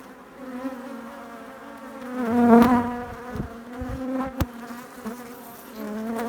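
Honey bees buzz loudly and continuously at an old log hive, the drone rising and swelling mid-way with a few louder passes close by, no voices.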